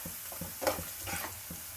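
Salt being stirred into onions frying in a pan for mutton kothu kari chukka, with soft scraping strokes at a steady rhythm over a faint, low sizzle, close and fairly quiet.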